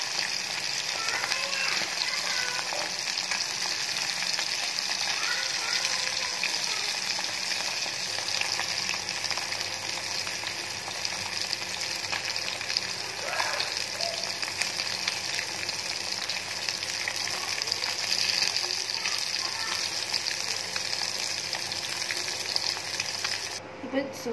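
Jilebi fish fries in a pan, a continuous crackling sizzle of hot oil that stays even and fairly close throughout, with occasional small pops and no voices.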